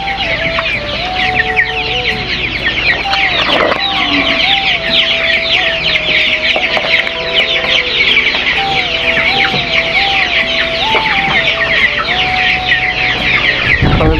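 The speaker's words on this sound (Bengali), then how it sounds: "এই যে আমাদের সমস্ত মুরগিগুলো" A flock of chickens clucks busily and continuously nearby, with overlapping calls and a steady droning hum underneath.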